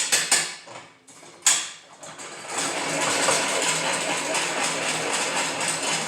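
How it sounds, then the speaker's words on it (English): Ratchet straps released on a no-ladder telescope assembly system beside the rocker box: a few sharp clicks and a snap at the start, then a steady, close rasping rush as the straps are let out. "So now, when I release my straps,"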